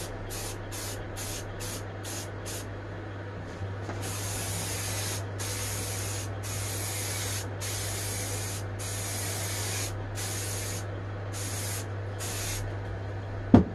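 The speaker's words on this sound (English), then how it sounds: "now I can spray the rest of it" Aerosol spray paint hisses onto the case of a mains conditioning hub in bursts, first several short squirts, then longer sustained blasts with brief pauses, close and loud over a steady low hum.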